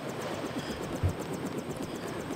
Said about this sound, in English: The helicopter was flying on its side for a second.